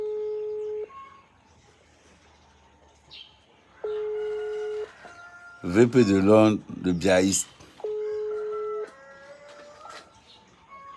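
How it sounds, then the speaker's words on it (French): A telephone rings out during a live stream: three long, steady ringback tones are spaced several seconds apart, with loud talking between them. "Là maintenant, ça sonne, là, ouvert le téléphone."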